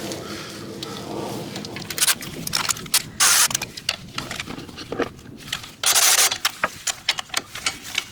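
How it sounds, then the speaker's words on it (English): An electric ratchet tightens a nut on a Wilwood rear disc brake caliper of a 1973 Chevy Impala, giving several short whirring mechanical bursts with clicks and handling noises between them, close and moderately loud. "I'm gonna grab my electric ratchet, get that thing tightened up"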